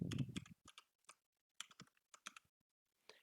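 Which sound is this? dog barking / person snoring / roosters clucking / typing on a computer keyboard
typing on a computer keyboard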